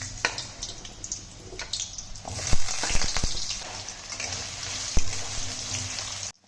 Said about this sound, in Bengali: কড়াইতে তেল দিয়ে দিয়েছি, তেলটাও গরম হয়ে গেছে। এখন দিয়ে দেবো আলুগুলো।